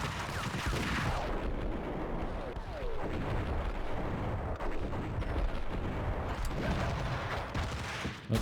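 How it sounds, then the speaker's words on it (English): Grenades blowing up during a firefight in the video game Max Payne, a dense, continuous barrage of booming blasts and crackling gunfire that stays loud and busy throughout with no let-up. "Oh, they're throwing grenades now."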